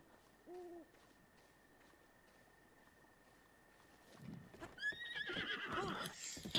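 Horse neighing with a whinny toward the end, preceded by soft hooting and faint hoofbeats, over a quiet background in Zelda: Breath of the Wild.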